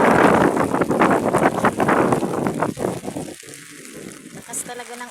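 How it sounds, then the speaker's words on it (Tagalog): Heavy storm rain pours down steadily, a loud dense hiss with gusty wind buffeting the microphone, fading slightly toward the end. "Lakas talaga ng ulan."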